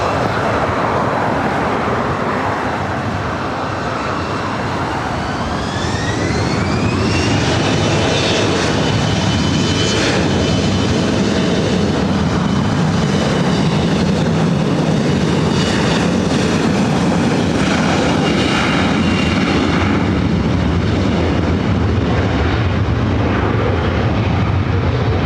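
A jet airliner takes off at LAX, its engines building from a rumble into a loud, sustained roar with a rising whine that sweeps past close by and fills the whole stretch without talk.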